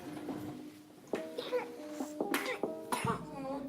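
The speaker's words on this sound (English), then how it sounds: "Oh, the baby is coughing." A baby coughs several times in quick, short bursts, close and fairly loud, with a throat-clearing quality and small voiced sounds between them.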